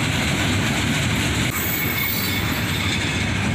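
A CSX freight train rolls past with Wisconsin Central boxcars, a loud continuous rumble of wheels with rhythmic clatter and high squeals, very close, with no voices.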